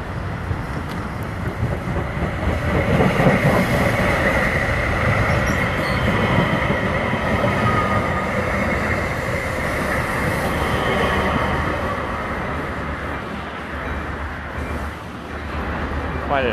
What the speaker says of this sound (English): I see a train's going by right now.